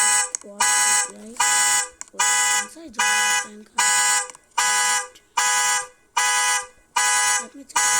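A Volkswagen Golf GTI Black Edition's panic alarm sounds in loud, rapid, regular electronic bursts, roughly ten pulses in a row, with a voice speaking briefly underneath.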